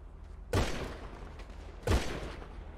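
Two loud, booming gunshots from GTA V ring out about a second apart, each with a short rumbling decay over a low background hum.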